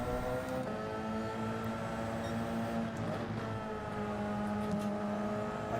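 A GR.1 race car engine in Gran Turismo 7 holds a high, steady whine near the limit in top gear, with other cars droning close by and a brief pitch change midway.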